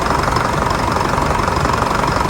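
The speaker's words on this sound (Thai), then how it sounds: "เสียงเครื่องเพราะมากนะครับ" A car engine idles steadily up close, a loud even rumble with a fine rhythmic vibration and no voices.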